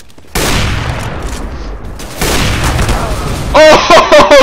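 Gunfire in a first-person shooter game comes as loud, dense bursts of shots and booms, with a few sharp separate shots near the end.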